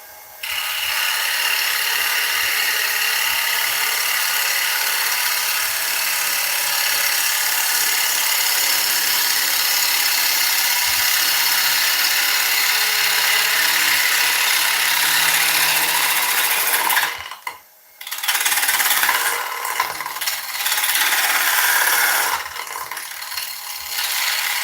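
Woodturning on a lathe, the gouge peeling off thin wood shavings with a steady, loud, continuous scraping hiss that breaks off briefly near the end before resuming; no talking.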